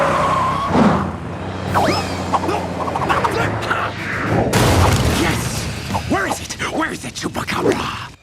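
A cartoon Jeep crashes in a chaotic jungle scene, with whooshes, skidding, clattering impacts and a boom layered over music and voices.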